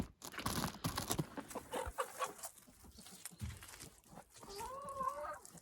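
Newly bought Lohmann White laying hens cluck and shuffle close by in a quiet indoor space, soft scattered clucks and rustling, with a brief higher call near the end.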